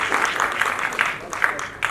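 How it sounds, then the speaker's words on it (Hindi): At an awards ceremony, a brief burst of audience clapping lasts under two seconds, uneven and moderately loud, with some voice sounds mixed in. "एक बार ज्योति मैम के लिए और उनके टीम के लिए एक बार जोरदार ताली होनी चाहिए"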